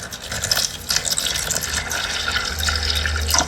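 Water is poured into a tarantula's plastic water dish, a steady close-up splashing fill with bubbling and dribbling that continues through the whole moment, with no talk over it.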